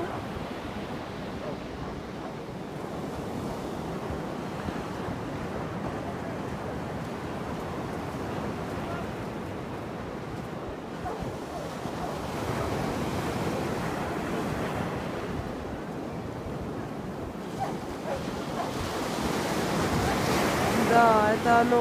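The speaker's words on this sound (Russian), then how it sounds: "Уже слышно шум волн, да?" Sea waves wash and break continuously on the beach at Zandvoort on the Netherlands' North Sea coast, a broad steady roar of surf with wind noise on the microphone, swelling slightly louder toward the end.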